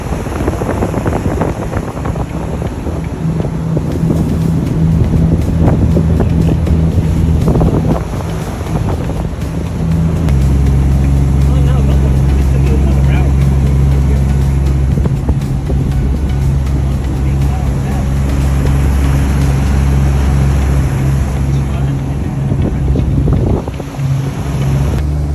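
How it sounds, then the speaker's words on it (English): The big inboard engines of a 1988 SeaRay 340 Express motorboat drone steadily and loudly while underway, with the pitch shifting partway through, over heavy wind rush and water noise. "I'm going to leave you guys with a couple clips of us driving the boat over"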